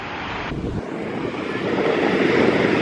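An airplane flying overhead makes a rising, broad rumble that grows steadily louder, mixed with gusty wind buffeting the microphone outdoors.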